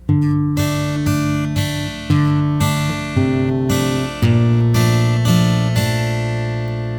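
An acoustic guitar is strummed in a steady pattern, single bass notes followed by chord strums, close and clear with no talking.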